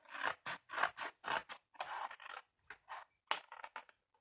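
Scissors snip through a paper document holder pattern in a run of short, close cuts, the first few evenly spaced, then a pause and a faster burst of snips before a last quick cluster.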